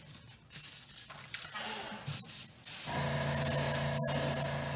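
An airbrush or spray gun lays a clear base coat on a clear fishing lure, short hissing bursts followed by a long steady spray, close and loud.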